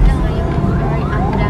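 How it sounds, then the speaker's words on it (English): An ambulance siren passes along a road near a lockdown checkpoint in Santa Cruz, Philippines, its wailing tone rising over steady traffic rumble, with a voice also present. "Ayan lang, isa sa mga kalasot, ambulance."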